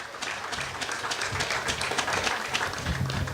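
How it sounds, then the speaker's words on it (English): An audience at a housing programme launch event applauds the Social Security Board, a steady patter of clapping from a crowd at moderate volume. "I want us to give the Social Security Board, the Social Security, a round of applause."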